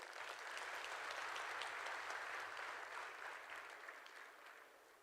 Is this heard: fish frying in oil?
no